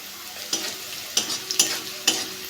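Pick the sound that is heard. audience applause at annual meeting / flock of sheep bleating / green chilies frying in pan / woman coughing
green chilies frying in pan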